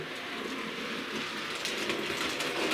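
Bachmann A1 model locomotive rolling through Peco points in a fiddle yard, a continuous near rumble with light clicking that swells slightly toward the end, with no voices.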